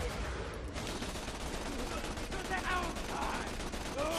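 Rapid gunfire from a weapon in the video game Borderlands 2, dense bursts of shots over game effects with a voice talking alongside.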